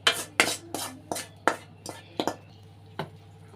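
A spoon clinks against a metal bowl while sautéed yellow pumpkin is stirred into ground adai batter. About a dozen sharp taps come in an uneven rhythm, close and clear, with no talking.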